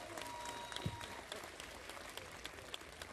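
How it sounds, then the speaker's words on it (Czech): An audience at a live Christmas Eve concert in Přerov applauds with steady, dense clapping that sounds somewhat distant and continues throughout. "budeš myslet na všechny ty lidi, kteří ti tolik fandí a jak ti krásně tleskali"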